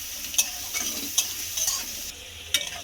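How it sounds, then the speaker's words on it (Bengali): Onion and capsicum fry in a pan for pav bhaji, a continuous close sizzle broken by a few sharp spatula scrapes and taps as the mix is stirred, with no voices. "তো দিয়ে এইটাকে বন্ধুরা ভালো করে একটু ভেজে নেব।"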